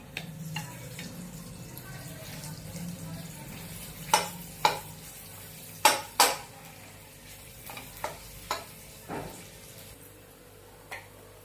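Oil sizzles steadily in a pan as spices fry, while a metal spoon scrapes and clinks against it several times, close by, with no talking.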